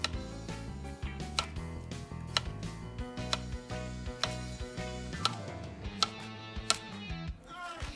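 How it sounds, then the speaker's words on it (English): A knife chops a banana into thin slices, giving a steady series of sharp, light taps on a board under soft background music, with no voices. "Next, chop a banana into thin slices."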